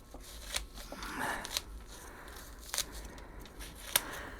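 A blade snips through a catalpa leaf near a tree's roots in a few quiet, crisp cuts and rustles, scattered over about four seconds with a soft crackle between them.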